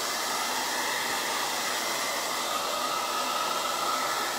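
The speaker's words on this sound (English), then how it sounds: "I'm gonna turn the blow dryer on real quick." A hair dryer blows at a constant roar, close and loud, with an even airy whoosh and no change in pitch or speech.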